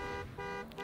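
A car horn in the racing game Trackmania United Forever sounds a steady, sustained toot, fairly loud and close, lasting under a second with a brief dip midway.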